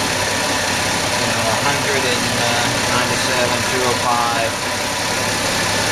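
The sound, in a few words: Ford F150 engine idling at operating temperature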